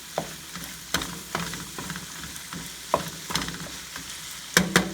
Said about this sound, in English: Let me go ahead and just stir that up a little bit.